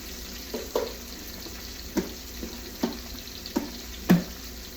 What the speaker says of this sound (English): Alrighty, sounds nice, sizzling away